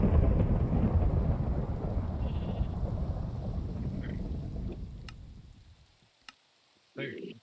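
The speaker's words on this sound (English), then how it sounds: "listen to that thunder" Thunder in the Minecraft video game: a long, loud, low rumble that rolls for several seconds and fades to near silence, followed by a few sharp clicks and a brief burst near the end.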